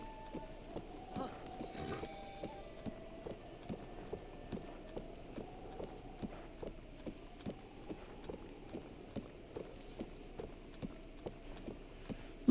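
Horse hooves in Zelda: Breath of the Wild clop along in a steady, even rhythm at a brisk pace, moderately quiet and continuous, with a brief rushing swish near the start and no talk.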